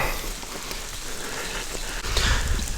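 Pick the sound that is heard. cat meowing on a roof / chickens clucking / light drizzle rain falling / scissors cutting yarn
light drizzle rain falling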